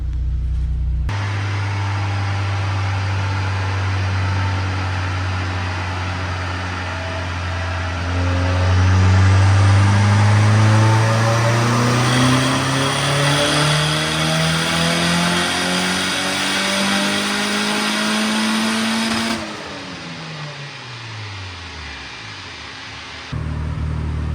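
A turbocharged Honda Civic B18B1 engine revs steadily upward under load on a dyno for a long, loud pull, its pitch climbing, then cuts off and winds down.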